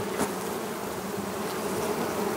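Bees buzzing steadily and fairly loud around a beekeeper's hives, a continuous droning hum with no talk over it.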